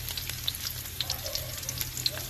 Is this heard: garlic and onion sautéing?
yes